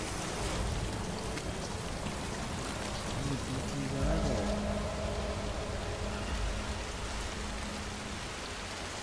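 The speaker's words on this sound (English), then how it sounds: "This damn rain, dude." Heavy rain pours steadily in the video game Death Stranding, a dense continuous hiss of falling water with faint low rumbles underneath and no speech.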